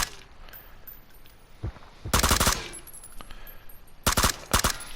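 Automatic gunfire in the video game PUBG, two sharp bursts of rapid rifle shots, loud and close, separated by quieter ambient game sound.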